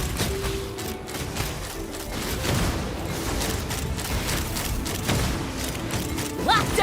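Rapid video game gunfire and explosive booms rattle on continuously, dense and loud, with a few thuds and mechanical clanks mixed in and no clear talk.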